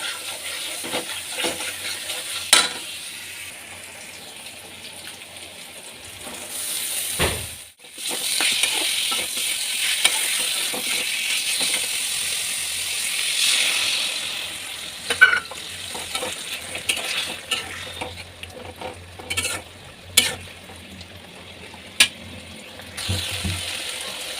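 Chicken masala is slowly fried and stirred in a pan, with a soft steady sizzle under repeated scraping and clinking of a spatula against the pan. Sharper utensil knocks come at irregular intervals.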